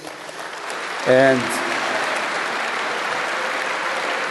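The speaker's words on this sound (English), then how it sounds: "One last round of applause for Elizabeth, please." A conference audience at a Bitcoin and Lightning talk breaks into sustained applause, a steady wash of clapping that fills the whole clip after a brief word from the host.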